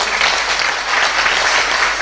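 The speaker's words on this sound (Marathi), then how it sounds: "त्यामुळे टाळ्या वाजवायच्या." An audience at a kirtan claps steadily, a loud, dense, continuous roll of applause that fills the whole stretch.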